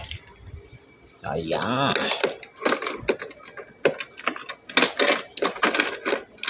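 Keys to a new motorbike jangle in bright metallic clinks and rattles, coming in short bursts while a person talks between them.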